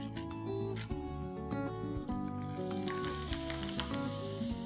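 Sun-dried traditional papad-style snacks fry in hot oil with a dense, bubbling sizzle, broken by small pops and clinks throughout a short stretch. No voices are heard.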